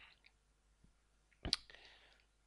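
A single sharp computer mouse click on an OK button sounds alone in a quiet room, with a faint tick just before it.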